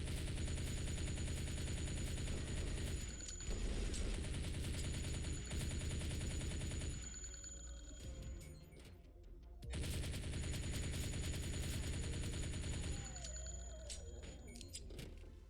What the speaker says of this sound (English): The sound effects for the guns are decent, with the impact doing most of the heavy lifting